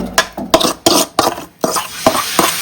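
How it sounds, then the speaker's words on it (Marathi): Roasted masala being scraped and stirred into chicken curry gravy in a home kitchen, giving a run of sharp utensil clinks and scrapes against the pot, close and fairly loud, with no talking. "हे आपलं मसाला भाजून घेतलेला आहे रस्स्यामध्ये आपण ऍड करूया"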